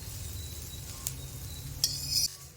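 Garlic dry-roasting in a pan for curry leaf powder: soft, low crackling with a few bright metallic clinks of a utensil against the pan, close and quiet, with no voices.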